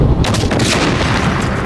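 A rocket blast tears apart a breakfast-selling trailer at a test range, heard as a loud, dense explosive roar with crackling bursts that stays intense throughout the short moment.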